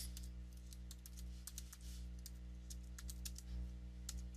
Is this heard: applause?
no